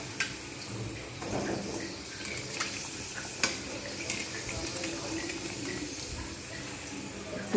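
Potato puri frying in a pan of oil, a steady broadband crackle and hiss with a few sharper pops, moderately quiet and continuous, with no talk over it.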